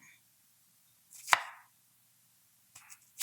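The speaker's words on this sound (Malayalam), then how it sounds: "ഇതിനെങ്ങനെ ചെറുതായിട്ട് ഇതുപോലെ നമുക്ക് അരിഞ്ഞെടുക്കണം." Bitter gourd being chopped into small pieces on a board, with one sharp knife cut standing out, a second fainter cut near the end, and near-silence between.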